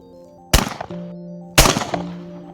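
A shotgun is fired twice at close range by a first-time shooter: two loud, sharp blasts about a second apart, each trailing off into a brief ringing decay.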